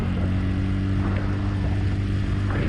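A 2021 TVS Ntorq 125 Race XP scooter accelerates in race mode, its engine droning loudly and steadily up close under rushing wind.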